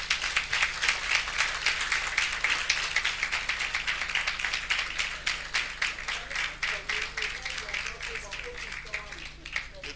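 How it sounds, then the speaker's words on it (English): An audience claps steadily at a public lecture, a dense, fairly loud wash of applause that thins a little toward the end while faint voices murmur underneath. "This young man, please applaud him for me."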